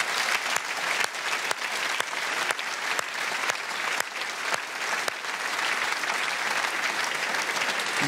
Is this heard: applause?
yes